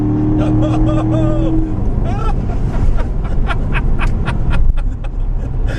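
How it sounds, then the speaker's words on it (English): A 2014 Chevrolet Corvette Stingray's exhaust in track mode roars and crackles as the engine revs up and down through gears on a drive, loud and close, with occasional voices mixed in. "in track mode it switches the exhaust notes"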